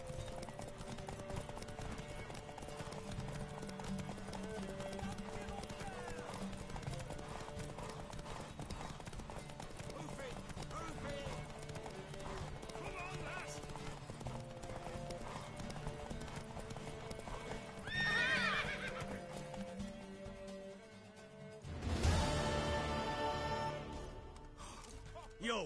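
Video game horse galloping in a race, rapid hoof clip-clop running steadily throughout, with character voices talking over it and a brief whinny and surge near the end.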